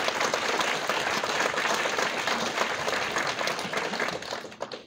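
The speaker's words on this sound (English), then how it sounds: "I'm sure you can echo that with a little applause again." Dense, steady audience applause fills a retirement celebration, sustained clapping close by that tapers off in the final moment.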